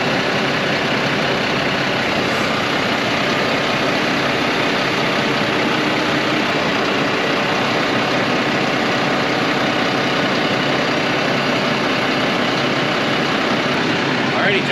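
A Fendt sprayer's engine runs with a steady, loud, unbroken drone and rumble from close by, holding an even level throughout without clear changes in pitch.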